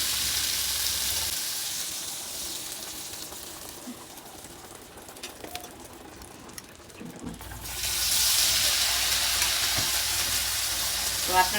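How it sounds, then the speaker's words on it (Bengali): Batter-coated snacks fry in hot oil with a close, crackling sizzle that dips quieter in the middle, with faint clinks, then surges back loud and steady. "এখন আমি ভেজে নিব।"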